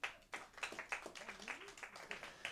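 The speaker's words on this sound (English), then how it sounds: "Big round of applause for him, please." Light, sparse clapping from a small audience in a showroom, a handful of separate claps close by, with voices talking over them.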